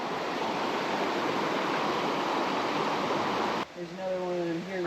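Water rushes through rock inside a cave, a steady, full hiss that cuts off abruptly near the end, leaving quiet with a voice talking.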